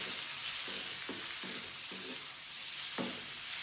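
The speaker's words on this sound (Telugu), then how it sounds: "ఇది బాగా వేగనివ్వాలి ఆనియన్ ఫస్ట్" Sliced onions frying in a pan for sambar, a steady bright sizzle with several soft stirring scrapes at irregular intervals, close and fairly quiet, with no talking.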